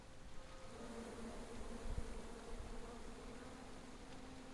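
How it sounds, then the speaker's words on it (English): Low, steady droning buzz of bees in a video game, continuous and fairly quiet, with a faint thump partway through and no talking. "Come at me, bees!"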